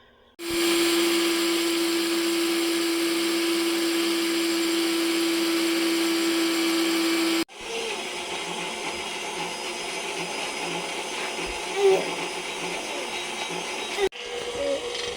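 An electric grain mill grinds homegrown wheat with a loud, steady motor whine that drops after several seconds into a rougher, lower grinding roar with small bumps and shifts.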